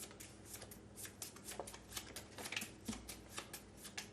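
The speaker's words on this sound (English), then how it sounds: "Give him a quick shuffle." A deck of cards from the Hostage Negotiator board game is shuffled up close, quiet riffles and snapping card edges repeating in quick rhythmic bursts, with no talk.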